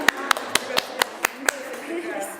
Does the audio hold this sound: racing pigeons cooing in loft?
no